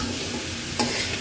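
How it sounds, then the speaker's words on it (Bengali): Pointed gourd and potato pieces fry in a pan of cooked-down spice paste, giving a steady, close sizzle with a brief scrape of stirring partway through; no voices. "প্রথমে মশলা কষিয়ে নিয়েছি, তারপর এখন পটল আর আলুগুলো দিয়ে দিলাম"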